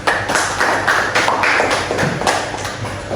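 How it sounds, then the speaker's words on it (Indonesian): A run of sharp hand claps, roughly a dozen in quick irregular succession, close and fairly loud with no talking over them. "Oke, tepuk tangan."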